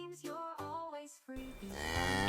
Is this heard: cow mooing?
yes